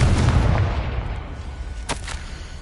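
A Confringo fire spell in Hogwarts Legacy goes off with a heavy, rumbling blast that slowly fades, followed by a brief sharp crack near the end. No voices.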